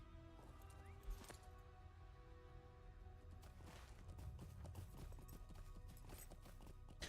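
Hooves clip-clop rhythmically at a steady trot in an early-2000s video game, over a faint game soundtrack hum, with occasional soft clatters.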